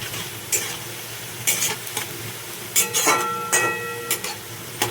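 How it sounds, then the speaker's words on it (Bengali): Sliced onions fry in a hot pan with bay leaves, giving a steady sizzle broken by sharp, repeated scrapes and clatters of a spoon stirring close by. "এই পেঁয়াজটাকে আমি খুব ভালো করে লাল লাল করে ভাজবো"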